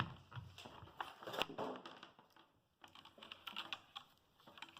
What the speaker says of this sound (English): So here you go, the keyboard.